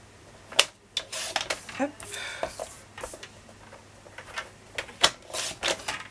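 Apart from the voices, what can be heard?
cutting paper with glue on it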